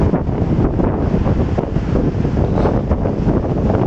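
Strong, cold wind buffets the microphone in a steady, loud rumble on a Hong Kong street, with gusty roaring throughout and no other clear sounds.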